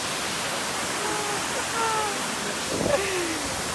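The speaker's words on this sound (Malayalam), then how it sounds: "വെള്ളച്ചാട്ടം അത്" A waterfall pours in a forest, a steady broad rushing roar throughout with faint voices briefly audible over it.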